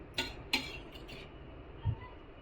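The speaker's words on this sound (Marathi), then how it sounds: "चमच्याच्या साह्याने आणि पळीच्या साह्याने मिक्सरमध्ये टाकते" A spoon and a ladle knock and scrape against a mixer jar while taro leaf paste is put in, giving a few sharp metallic clinks early on and a dull thud near the end over a quiet kitchen background.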